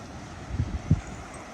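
Wind over sand dunes buffets the microphone with low rumbling gusts, two brief thumps standing out over a steady breathy rush.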